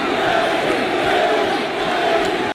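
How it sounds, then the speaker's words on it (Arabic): A large wrestling arena crowd cheers for a wrestler, a loud, dense roar of voices that holds steady for the full stretch with no pauses. "الجماهير هتفت لايدي"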